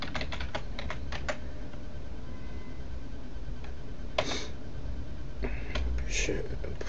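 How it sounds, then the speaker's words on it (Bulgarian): Keystrokes on a computer keyboard as a password is typed during a Joomla install on Ubuntu, a loose run of quick clicks early on, then scattered taps with a few louder presses, close and fairly quiet over a low background hum. "Тук пишем си паролата."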